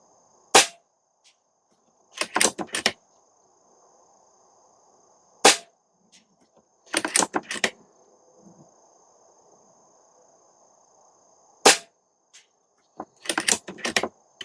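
Stoeger XM1 Scout PCP airgun in .22 or .25 firing at a target outdoors: sharp isolated cracks, some doubled with a quick second impact, spaced several seconds apart over a quiet background with a steady faint insect-like whine.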